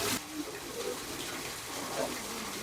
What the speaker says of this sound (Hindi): देखो भाई गाय के मुख से पानी आ रहा है, इसको गोकुंड बोलते हैं